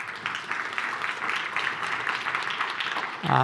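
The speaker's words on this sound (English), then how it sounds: "Should we give him another round of applause?" A room applauds Rob, the moderator of a pharma market research panel, with a steady, moderate round of clapping from a crowd that swells slightly louder at the very end.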